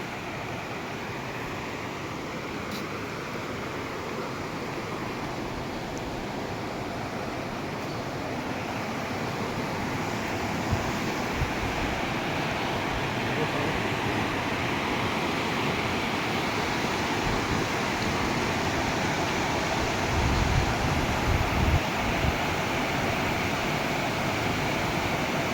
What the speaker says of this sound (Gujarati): જુઓ પાણીની લહેર ચાલુ જ છે